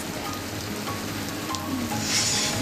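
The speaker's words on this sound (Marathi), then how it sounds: "अवकाळी पावसाच्या जोरदार सरी कोसळल्या" Dense, steady hiss of heavy unseasonal rain pattering on surfaces in Karjat, Maharashtra, continuous and fairly close, with no talking.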